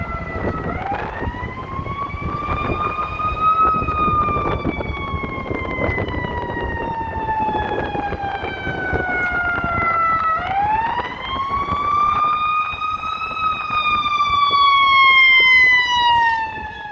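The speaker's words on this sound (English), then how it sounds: "The ambulance responded to a medical call" An ambulance siren wails loudly along a downtown Chicago street, its pitch sweeping slowly up and down in long cycles over steady traffic rumble.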